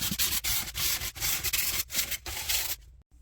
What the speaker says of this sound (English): I'm going to show you how lightly we're going to sand this area